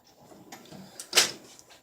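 A drawer on a 52-inch Husky tool box slides open with a soft rolling rumble and ends in a sharp metallic clack near the end, heard up close in a quiet room.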